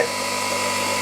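A bench grinder runs steadily and loudly at close range during tool making in a home garage, giving a continuous high whine with no breaks.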